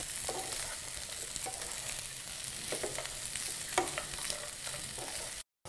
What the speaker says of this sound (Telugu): ఆలు ముక్కలు వేసి ఆయిల్ ఆనియన్స్ పచ్చిమిర్చి అంతా కూడా బాగా కలిసేలాగా ఆలుకి బాగా పట్టేలాగా కలుపుకోవాలి